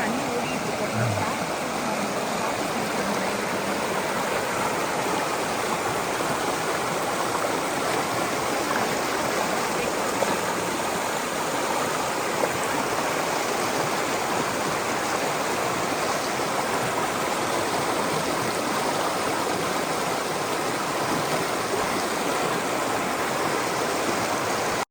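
A stream flows fast and continuously beside rustic cabins in the Alaskan forest, its dense rushing wash close and even throughout with no break.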